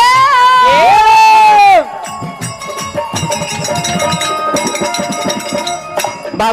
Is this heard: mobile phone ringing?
no